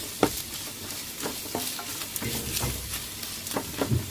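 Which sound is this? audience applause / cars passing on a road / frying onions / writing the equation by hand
frying onions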